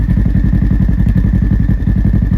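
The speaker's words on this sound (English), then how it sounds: "you can hear the turbo just a little bit" A turbocharged Polaris General XP UTV engine idles close up with a fast, steady thumping pulse and a faint thin turbo whine above it.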